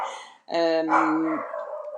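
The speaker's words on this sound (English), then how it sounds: "of course the dogs will start barking as I try to start the reading" A single drawn-out dog bark or howl close by, after a short quiet moment, trailing into softer noise.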